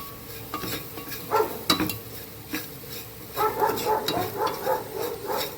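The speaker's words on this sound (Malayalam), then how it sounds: "നന്നായിട്ട് മിക്സ് ചെയ്യുക" Squid curry being stirred and mixed in a pot, with a spoon scraping and clinking against the metal over a low sizzle, close and fairly loud in uneven strokes.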